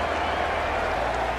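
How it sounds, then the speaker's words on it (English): A stadium crowd in the Cricket 19 video game cheers a six with a dense, steady roar and scattered clapping, and a voice speaks over it. "The roar of the crowd as they cheer a six."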